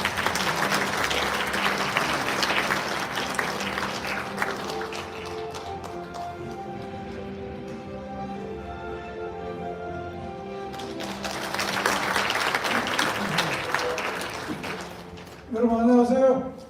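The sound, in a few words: audience applause of welcome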